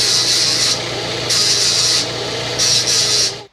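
Knife blade pressed against a coarse 36-grit belt at a carport forge, loud abrasive grinding in repeated bursts with brief lighter passes between, cutting off at the end.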